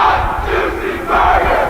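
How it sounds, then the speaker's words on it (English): Crowd cheering and yelling at a women's college soccer tournament match between Mount Union and Baldwin Wallace, a loud sustained roar from the stands that swells in waves. "Might be able to hear the crowd in the background. Good crowd here tonight."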